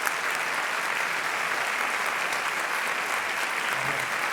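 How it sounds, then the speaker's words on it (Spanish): Sustained audience applause closing a round-table talk, dense even clapping from a seated crowd throughout with no voices. "Un aplauso"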